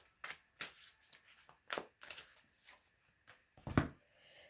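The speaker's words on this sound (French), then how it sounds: "le jeu a du mal à se mélanger" A tarot deck being shuffled by hand, a stiff pack that mixes poorly, giving a string of short papery riffles and slaps at uneven intervals, close and quiet with no talk over it.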